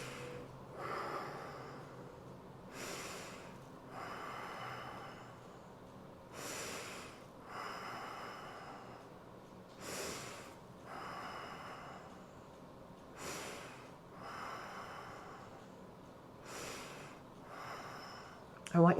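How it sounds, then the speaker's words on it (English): Six or more quick, forceful sniffs in through the nose during a guided breathing exercise, evenly spaced and close to the microphone, with faint breathy noise in between. "breathe in through the nose 6 times with me"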